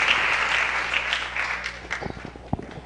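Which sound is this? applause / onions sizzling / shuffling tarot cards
applause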